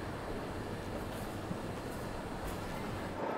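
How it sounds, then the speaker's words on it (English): A train rumbles at London Paddington station, a continuous loud roar of rail noise with faint clanks, and no talking. "My train is departing soon from the Paddington station."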